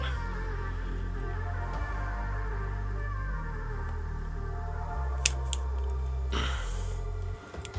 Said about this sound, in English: Body scissors always work great.